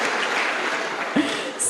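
Audience clapping at the Podcast Conf. X 2025 conference fills the room in a steady, dense patter, with a brief cheer rising near the end.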